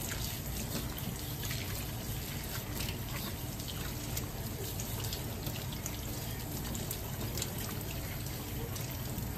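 Cucumbers are rinsed under running tap water, giving a steady close splashing and trickling that continues without a break throughout.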